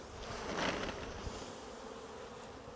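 Honey bees buzz as a steady, dense hum while two hives are merged, fairly quiet and continuous throughout with no voices.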